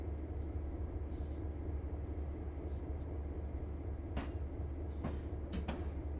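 Clinchfield Railroad train hauling empty cars behind F unit diesel locomotives in a simulated railway run, a steady low engine rumble with a few sharp metallic clanks near the end, no voices.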